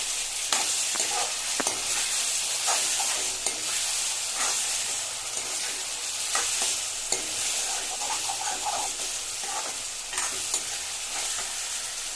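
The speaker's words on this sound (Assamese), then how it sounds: "এতিয়া মূলাখিনি দি অলপ সময় ভাজি ল'ম।" Radish pieces fry in a pan with potatoes while a spatula stirs them, a steady soft sizzle broken by repeated scraping and clinking strokes at close range.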